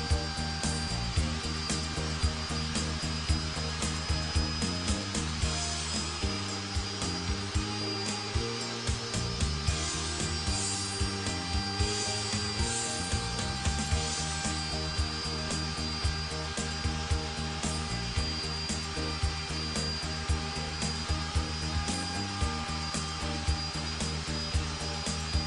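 A router guided by a Milescraft 3D pantograph cuts wood with a steady, loud, continuous whine and hum throughout, with faint irregular ticks but no pauses.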